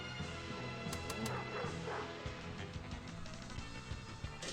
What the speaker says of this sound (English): Get this dog away from me.